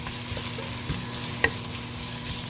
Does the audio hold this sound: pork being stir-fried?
yes